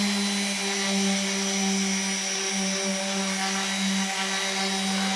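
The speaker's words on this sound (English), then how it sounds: "we're going to sand everything" A power sander works wooden bath tray pieces with a steady, close, buzzing hum and a constant tonal drone over abrasive hiss, running continuously without pauses or speech.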